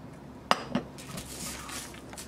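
A utensil clinks twice against a pot as blueberries and chopped peaches are mixed inside, followed by soft, muffled stirring and rustling. The sound is quiet and close, with no talking.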